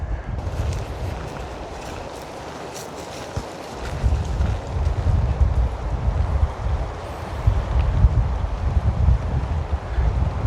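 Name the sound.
wind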